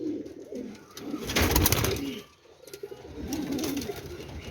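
Pigeons cooing close by, low throaty coos rising and falling in two swells with a short lull between, kept fancy pigeons at a loft in Rawalpindi.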